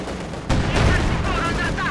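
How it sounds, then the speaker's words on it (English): Anti-tank gun fire hitting a T-34 tank in Company of Heroes 2: a sharp, loud blast followed by sustained rumbling battle noise and clatter, with faint speech mixed in. "And T-34 took a hit there from the Panzerabwehrkanone, but managed to escape."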